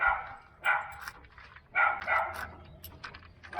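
Dog barking in repeated bursts nearby, two main clusters of sharp barks separated by short pauses, heard over low background hum near a bus stop at Trinity Beach in Cairns.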